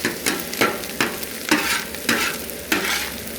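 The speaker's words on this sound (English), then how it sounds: "stir them in with your rice" Eggs and rice are stirred on a hibachi griddle, the spatula scraping in repeated strokes about every half second over a steady, close sizzle.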